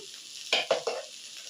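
A spoon stirs chili powder through a frying mix of ivy gourd and okra, giving three short scraping bursts over a steady sizzle with no talking.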